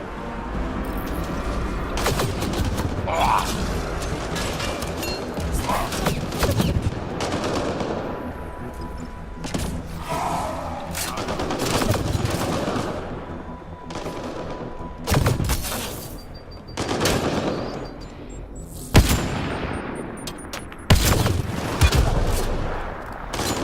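Sustained automatic weapon fire in the sci-fi shooter Mass Effect Andromeda during a fight against a large group of pirates: rapid bursts and loud individual shots stack over a constant battle din, with sharp, heavy reports at intervals.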